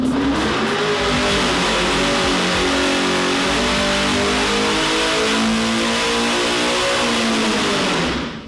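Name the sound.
supercharged V8 engine warming up and revving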